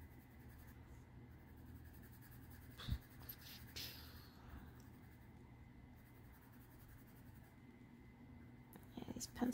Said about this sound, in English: these pencils can get streaky on this paper